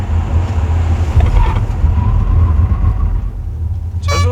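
A Tesla Model S 90D under full braking makes a close, steady low road rumble that eases off near the end, followed by a brief rising tonal squeal.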